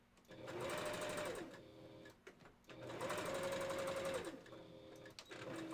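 A sewing machine stitches the hand paw of a wolf costume, running in two long fast whirring bursts separated by a short pause and a click. The sound is close and moderately loud.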